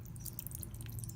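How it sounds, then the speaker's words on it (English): Sauce poured gently over chicken pieces for teriyaki gives a soft, continuous liquid trickle with dripping for just over a second, close and steady. "now you wanna just gently just pour a little bit"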